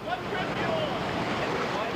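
River water pounds out of a dam into a strong eddy on the Gully River, a loud, steady broadband roar and rush filling the whole stretch without letup.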